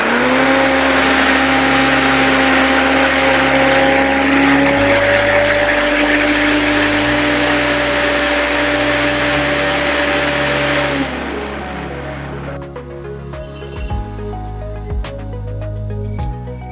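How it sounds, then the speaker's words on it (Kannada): Loud mixer grinder blending Indian gooseberries (amla) with water, whirring steadily for about eleven seconds, then winding down into rattling and clattering as the motor slows. "ಬೆಟ್ಟದ ನಲ್ಲಿಕಾಯಿ ಮತ್ತು ನೀರು ಹಾಕಿ ಮಿಕ್ಸಿಯಲ್ಲಿ ಮಿಕ್ಸಿ ಮಾಡ್ಕೋಬೇಕು"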